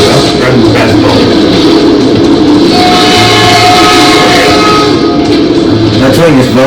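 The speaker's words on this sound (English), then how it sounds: "The train is that loud in real life." Loud, continuous rumble and clatter of a passing train in the Teenage Mutant Ninja Turtles Mutants Unleashed video game, with a drawn-out horn-like tone partway through. Players talk over it.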